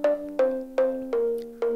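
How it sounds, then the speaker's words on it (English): Punchy Korg M1 house bass synth notes repeat in a steady rhythm, five hits in under two seconds, each with a sharp attack and a bright, buzzy tone that sustains briefly. "the main sound, which is the Korg M1 house bass"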